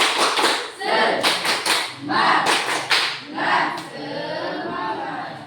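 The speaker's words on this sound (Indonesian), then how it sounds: "Sekali lagi kedua. Tepuk semangat." Students in a classroom do a patterned group spirit clap, several quick rhythmic bursts of hand claps in sequence, mixed with voices calling out, fading into quieter room sound at the end.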